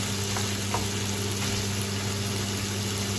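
Chicken korma roasting in a pan gives off a continuous low sizzle and frying hiss, steady and close, with faint background hum and no talking.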